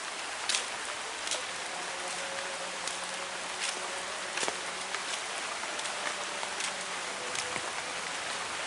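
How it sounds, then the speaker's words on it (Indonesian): Steady rain falls on a village in Jambean, Sambirjo, a dense continuous hiss with scattered sharper drips and faint insect-like buzzing, and no talking. "ini masih hujan"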